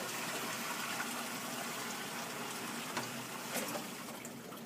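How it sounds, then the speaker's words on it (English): Bucket of blue-dyed water poured into a large reservoir, a broad steady gush and splash that runs continuously at moderate level with small surges, no voices over it. "we're going to add it into our big reservoir, so this way we'll have a blue river."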